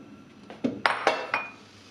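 A frying pan holding butter and sugar is set onto a stovetop burner, making a few sharp metallic clanks and clinks in quick succession, close and clear.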